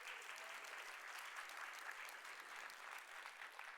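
Audience applause fills a conference hall at a World Food Day event, a steady dense clapping from a large crowd that holds evenly throughout without any talk over it.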